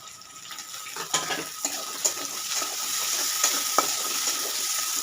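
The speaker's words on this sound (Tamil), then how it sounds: "இப்போ பொடியாக அரிஞ்சு வச்சுருக்க பூண்டு சேர்த்துக்குவோம். அதில் கொஞ்சமாக கருவேப்பிலை, வெங்காயம்." Chopped garlic, curry leaves and onion sizzling in a pan, a steady hiss with several sharp stirring scrapes and clinks, close and alone with no talk.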